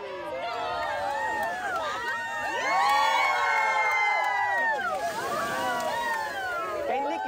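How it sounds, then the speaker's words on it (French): A crowd of holidaymakers on a beach cheers and shouts as baby olive ridley turtles head to the sea, a loud, dense mix of excited voices and children's shouts rising and falling throughout. "une foule de vacanciers"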